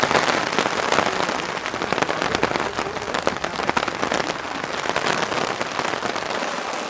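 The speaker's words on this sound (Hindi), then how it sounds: "बारिश को देखते हैं।" Steady rain falls in a continuous dense patter, the hiss of drops holding evenly throughout with no voices.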